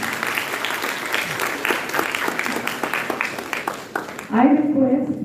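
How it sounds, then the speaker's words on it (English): An audience at a chartered accountants' meeting claps in a steady, moderate round of applause, with a voice speaking over it and a louder burst of talk near the end. "Please clap."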